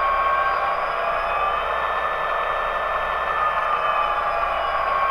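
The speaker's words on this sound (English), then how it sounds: "we're going to override that prime mover sound down to idle." A Tsunami2 sound decoder in a model locomotive plays its prime mover sound forced down to idle, a steady, continuous diesel engine drone held at an even level with no talk over it.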